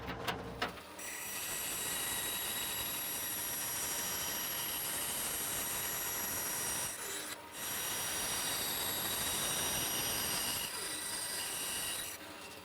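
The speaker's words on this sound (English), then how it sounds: "take it out and cut out the perimeter on the bandsaw" A bandsaw cuts around the perimeter of a laser-engraved stamp, giving a steady loud whine and rasp that runs almost without pause, with brief breaks near the start and in the middle, no talking.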